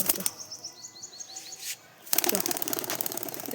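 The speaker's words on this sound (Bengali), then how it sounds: "দেখুন গাইস চলে গেল পায়রাটা, সে চলে গিয়েছে।" Pigeon with clipped wings flapping as it takes off, a burst of rapid wingbeats near the start, a brief lull, then louder flapping and rustling as it flies away, with faint chirps.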